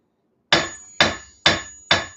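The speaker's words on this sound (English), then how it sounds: "how much I dropped my hammer onto that anvil in between steps" A blacksmith's hammer set down onto an anvil during coal rake forging, ringing four times in an even rhythm about half a second apart, each sharp metallic strike decaying quickly, close and loud with no talk.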